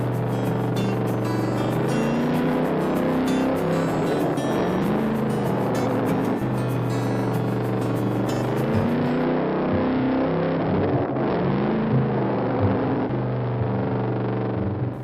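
Motorbike engines rev and ride in a comedy tug of war between a mini motorbike and a full-size bike, with a loud, close, continuously varying engine drone that rises and falls in pitch and no talk.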